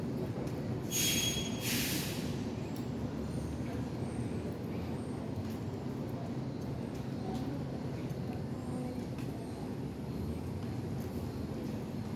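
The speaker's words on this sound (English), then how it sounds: "Train approaching." An MBTA Orange Line subway train rumbles steadily nearby at Ruggles Station platform, with a brief high metallic squeal of wheels early on over the continuous low roar.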